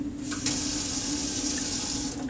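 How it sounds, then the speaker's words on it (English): Cold water runs steadily from a tap into a film-developing tray, a close, continuous splashing rush. "In this tray, we will fill it with cold water."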